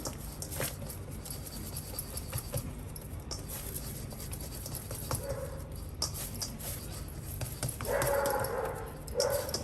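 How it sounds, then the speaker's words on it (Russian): Neighbours' dogs barking outdoors, faint and distant, a few scattered barks and patters over steady background noise, with a somewhat louder burst near the end. "Это соседские собаки пошли гулять, если кто-то слышит лай"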